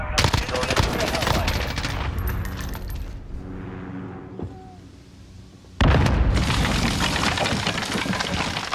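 Modern Warfare video game combat: loud, dense bursts of automatic gunfire and blasts, then a brief quieter lull before heavy shooting crashes back in.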